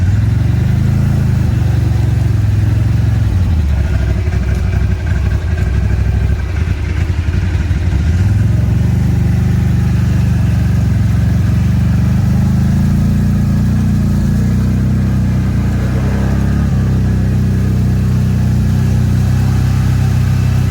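A 2021 CFMOTO Z950 with a snorkel drives through a pond, its engine droning loud and close with rises and dips in revs over a long stretch, splashing water mixed in.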